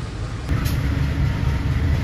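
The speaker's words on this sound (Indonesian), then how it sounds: "Kereta api Pasundan berangkat" A Pasundan economy-class passenger train on the Surabaya–Jogja route starts departing, its steady low rumble and rolling noise filling the space and growing slightly louder after a brief shift, with no clear talk over it.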